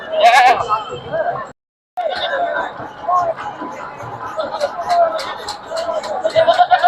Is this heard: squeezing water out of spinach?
no